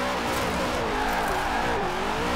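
A heavily tuned Dodge Viper engine in Forza Horizon 4 roars steadily at high revs, with a harsh, buzzy drone and faint tire-squeal overtones, loud and continuous with no talking.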